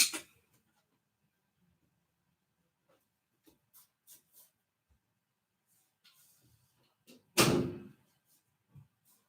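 Bedroom door closed at home, a single distinct thud after faint rustling and shuffling, with quiet movement sounds around it.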